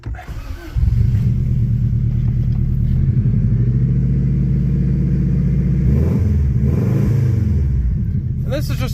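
A family car engine catches on a cold start with the choke on and roars into a loud, rough idle close by, revving unevenly for several seconds with a deep rumble.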